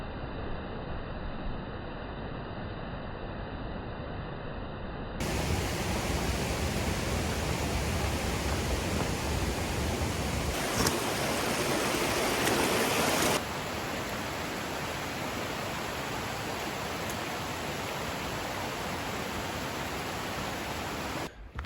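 Continuous rushing of flowing creek water on a trail near Garibaldi Lake, a steady broadband wash that grows louder partway through and stays constant.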